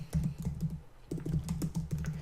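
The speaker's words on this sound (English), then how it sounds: "we're going to type in affiliate disclaimer" Typing on a computer keyboard while entering text for website styling: quick bursts of clicky keystrokes with a short pause midway, close and fairly loud, no talking.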